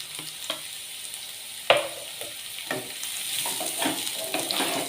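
Beetroot and onion frying in a pan, a continuous sizzle broken by irregular scraping and stirring knocks, fairly close and moderately loud, with no voices.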